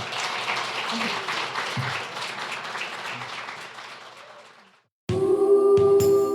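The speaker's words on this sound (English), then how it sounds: "give yourselves a round of applause" Applause from a live festival audience fills most of the stretch, a dense broadband wash of clapping with murmured voices beneath it, fading out before a brief gap and then a burst of other sound.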